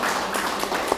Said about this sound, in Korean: 우리 박동렬 선배님께 뜨거운 박수 한번 쳐주시기 바랍니다